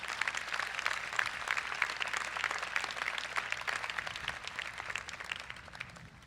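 A large convocation audience at the University of Iowa applauds steadily for a brass quintet, a dense, sustained wash of many hands clapping that fades slightly toward the end.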